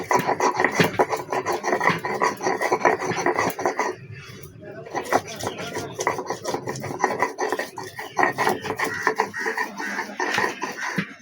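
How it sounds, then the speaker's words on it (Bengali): Ginger and garlic ground by hand on a flat grinding stone, a loud repeated rasping scrape with rhythmic back-and-forth strokes, pausing briefly midway before resuming. "ফার্স্টে আদা রসুনগুলো বেটে নেবো"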